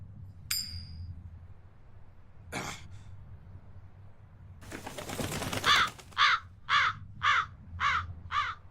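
A crow in Tales of Berseria: a few scattered calls, then a rustling flurry, followed by a run of six sharp, evenly spaced caws, close and clear.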